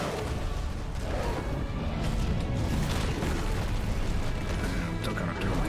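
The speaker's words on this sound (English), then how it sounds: "Suffering an attack, however, will automatically trigger the explosion." Ifrit's Brimstone explosion in the Final Fantasy 16 video game, a dense, sustained roar of booming blasts and crackling bursts at steady high loudness, with no talk over it.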